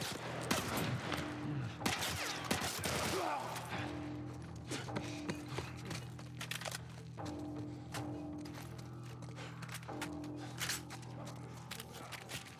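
Gunfire from a pistol and other weapons in a firefight in the video game The Last of Us, with repeated sharp shots, thuds and some rapid bursts over a steady game backdrop.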